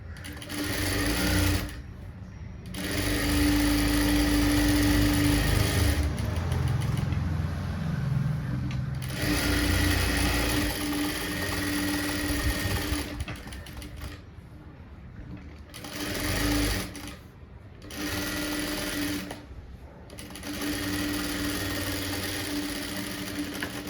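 An electric sewing machine runs in several long bursts while the back piece of a blouse is stitched all around, its motor hum loud and close, broken by short pauses between runs.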